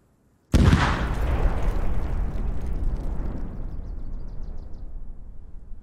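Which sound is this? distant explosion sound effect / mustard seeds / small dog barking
distant explosion sound effect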